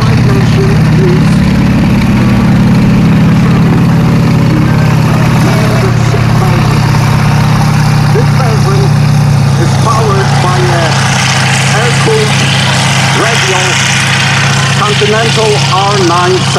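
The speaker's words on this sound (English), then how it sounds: "R975 engine. It's an aviation engine" A WWII Sherman tank's Continental R975 aviation engine idles with a deep, steady rumble throughout, loud and close, while a voice talks over it in the latter half.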